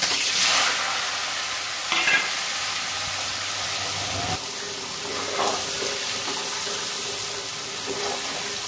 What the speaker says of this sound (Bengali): পনিরটা দিয়ে দিচ্ছি